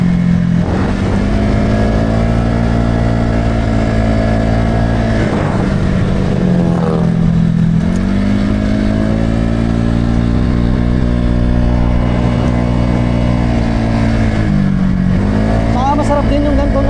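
A remapped Honda Giorno scooter engine drones steadily while riding, rising and falling in pitch as it accelerates and eases off, loud and close with wind noise, under a rider talking throughout.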